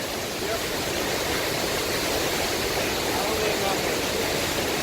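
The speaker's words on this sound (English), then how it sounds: "There is a lot of water being run through here." Heavy water roaring through several open floodgates, a steady, dense, unbroken rush that fills the scene at close range with no pauses.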